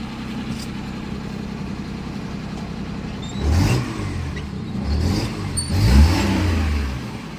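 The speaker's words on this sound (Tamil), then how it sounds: "வண்டியோட இன்ஜின் கண்டிஷன் இப்போ ஸ்டார்ட் பண்ணி காமிக்கிறேன் பாருங்கள்" A Maruti Omni MPFI van with a leaky silencer starts and runs. A steady mid-pitched idle is broken by two louder revving bursts, and the exhaust sounds rough and close.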